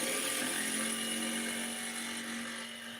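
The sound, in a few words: power drill drilling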